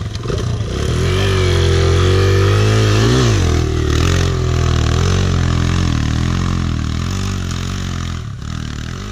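Yamaha YZ 250 dirt bike engine revving loudly while climbing a steep hill on private property, a close, continuous two-stroke snarl with rising and falling pitch and one sharp throttle blip partway through.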